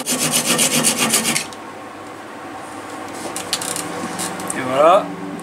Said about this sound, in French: je vais finir à la scie.